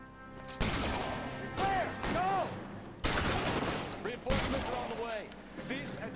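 Shotgun blasts from the L.A. Noire video game: several loud, sharp booms in irregular succession, each with a short decaying tail, while a voice speaks excitedly between the shots.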